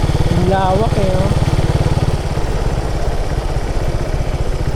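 A motorcycle engine idles close by with a steady low putter, while a voice speaks briefly over it near the start.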